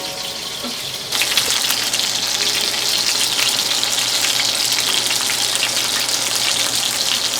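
Frog legs and chicken wings fry in oil with a steady, dense crackling hiss, which grows louder after the first second and then holds constant, with no voices.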